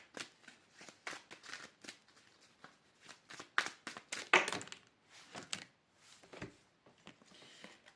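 Oracle cards being shuffled for a reading, a quiet run of soft riffling and slapping bursts with a few sharper snaps, close by and without talk.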